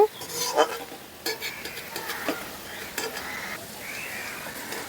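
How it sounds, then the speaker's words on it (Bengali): Carrots fry in a covered pan with a soft, steady sizzle, broken by a few sharp clinks and scrapes of a utensil stirring near the start, all at moderate level with no talk. "এখন গাজরটাকেও ঢাকা দিয়ে ভেজে নেব।"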